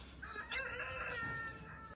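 Young chickens in a cage cluck and squawk close by in a short burst, fairly faint, with no talking.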